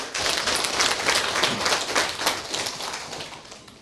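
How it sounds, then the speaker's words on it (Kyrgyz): An audience breaks into dense, steady applause, many hands clapping together close by for a few seconds with no voices over it. "Жаштар сүйлөсүн, кол чаап коебуз."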